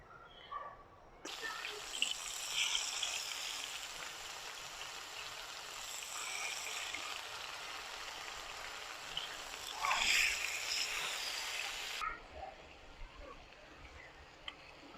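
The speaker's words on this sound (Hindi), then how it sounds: "अब हम इसे तकरीबन 10 मिनट इसी तरह लाइट टू मीडियम फ्लेम पे फ्राई करेंगे।" Marinated bulgogi beef frying in hot oil in a pan over a light to medium flame, a steady close hiss that starts abruptly, swells briefly near the end, then cuts off, with faint sounds around it.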